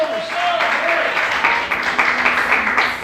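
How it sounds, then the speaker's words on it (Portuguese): Church congregation clapping vigorously during a sermon, a full steady wash of applause that builds after the first moment while a voice calls out over it. "Aplauda o Senhor mais forte"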